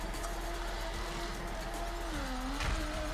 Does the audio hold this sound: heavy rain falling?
no